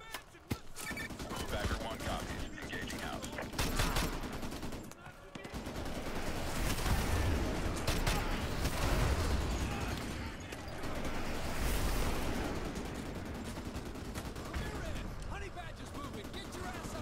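Steady gunfire from Call of Duty: Modern Warfare 2 runs the whole time, a dense wash of rapid shots and bursts. It stays fairly quiet and far back, with no clear gaps.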